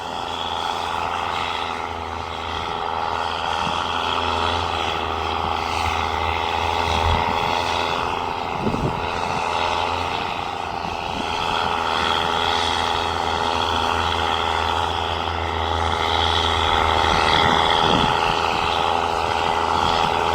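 A New Holland T7.200 tractor's large diesel engine drones steadily at close range, a heavy continuous rumble with some varying mechanical tones and no speech.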